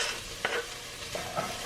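Diced green pepper sizzles with onions in a pan over medium-low heat, a soft steady frying hiss close by with a couple of faint stirring taps.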